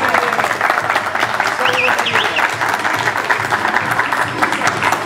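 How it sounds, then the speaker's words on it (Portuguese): A crowd at a gathering celebrating the Armenian presence in São Paulo breaks into steady, dense applause close by, with voices and cheers mixed into the clapping throughout. "Uma salva de palmas."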